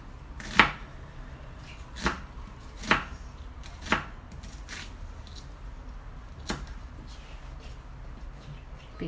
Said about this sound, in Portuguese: Picar aqui.